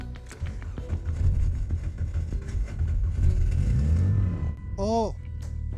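An old wreck of a car, bought cheap for a 1,000 km race, cranks and its engine catches and revs up, a steady mid-pitched rumble running the length of the clip beneath excited talking.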